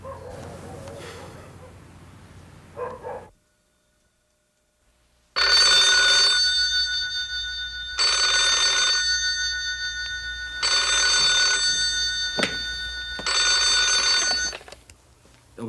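A telephone bell rings in four long, loud bursts with short pauses between them, following a brief stretch of quieter room sound and a silent gap.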